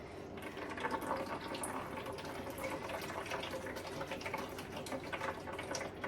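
Liquid from a slow-cooker chili drains steadily through a sieve into a bowl sitting in a kitchen sink, a continuous watery trickle and splash that stays even and moderately close for several seconds with no talking.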